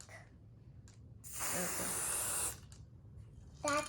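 An aerosol spray can gives one steady hissing burst of about a second, fairly close, set between a child's brief quiet speech before and after it.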